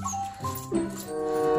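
A young dog whimpering with thin, high whines and soft yips, close and moderately loud, with background murmur and some noise.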